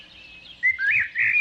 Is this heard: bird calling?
yes